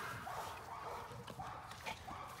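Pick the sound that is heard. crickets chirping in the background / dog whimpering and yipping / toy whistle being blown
dog whimpering and yipping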